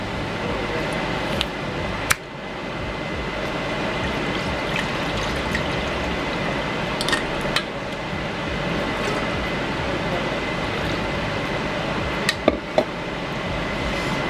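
Pineapple juice poured into a holiday fruit punch gives a steady close trickling, streaming sound with a few sharp clinks of the container, continuing for the whole stretch without talk.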